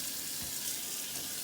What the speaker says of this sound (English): Rinse off the excess soap.